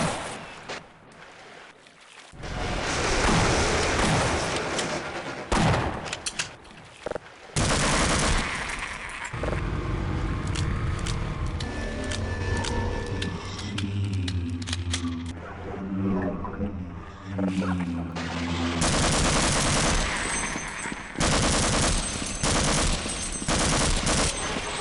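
Gunfire in the video game Half-Life during a boss fight, dense loud bursts of shots and rattling impacts in long stretches, broken by short quieter gaps with mechanical and tonal game sounds.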